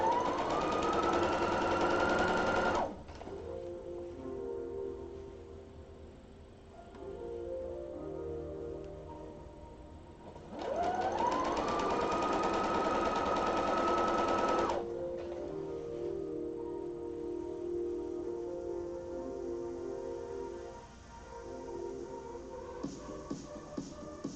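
A sewing machine stitches a widened hem in two loud bursts of steady, fast running that speed up and then stop, separated by a quieter low hum, with small clicks near the end.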